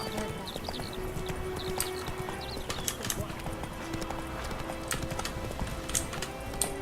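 Hooves of the horse Roach clip-clopping along a road in The Witcher 3 video game, a steady, continuous trot under ambient game sound and music, with occasional louder hoof strikes.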